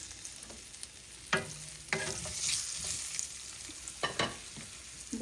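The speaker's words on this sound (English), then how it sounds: "Put all of it in, all of this veg in at one time and just stir it down" Onions and mixed vegetables sizzle in a hot pan for a stewed red snapper dish, with a steady frying hiss broken by a few scraping stirs.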